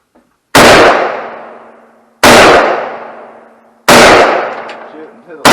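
Guns are fired at an outdoor shooting range, three loud, sharp shots spaced more than a second apart, each with a ringing decay, close by, with brief talk in between.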